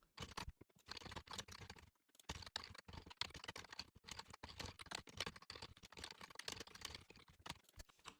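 Rapid, uneven clatter of keys on a computer keyboard as code is typed, bursts of quick clicks broken by brief pauses, close and fairly quiet, with no talking.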